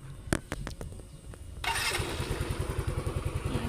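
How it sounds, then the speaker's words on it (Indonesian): A motorcycle engine cranks over in a few short bursts, then catches and settles into a steady, pulsing idle, close by, with no talk over it. "sekarang kita uji coba menyalakan motornya"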